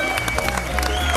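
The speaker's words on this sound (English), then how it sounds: "please, a big round of applause for everyone who played" A studio audience at a celebrity poker show breaks into loud, continuous applause, a close wash of clapping hands with some crowd noise mixed in.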